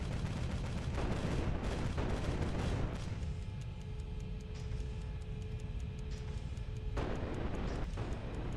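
Cannon fire in the game Capital Command, dense rumbling blasts and booms that keep overlapping, loud and continuous with a short lull in the middle and no talking.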